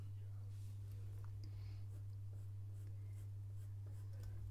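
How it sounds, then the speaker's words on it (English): Graphite pencil making short, quick strokes while sketching a fox on paper, heard as faint, soft scratching beneath a steady low electrical hum. "Just short strokes of the pencil."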